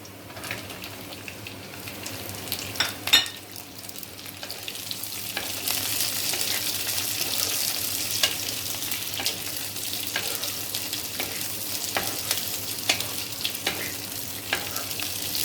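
Chilli paneer with onion frying and being stirred in a pan, a steady close sizzle with scraping stir strokes and occasional clinks, no talk.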